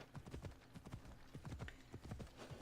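Horse hooves clip-clopping in a rapid, steady gallop during riding in the video game Assassin's Creed Odyssey, continuous and fairly faint.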